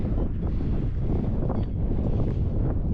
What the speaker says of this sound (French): Là il y a un gros vent.